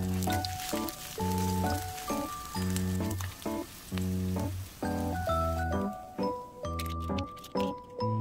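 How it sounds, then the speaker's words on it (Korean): Batter-coated pumpkin leaves with dried shrimp and chili pan-frying in plenty of hot oil, giving a soft continuous sizzle and crackle under a background of gentle music. "기름을 넉넉히 두른 팬에 튀기듯이 부쳐주세요"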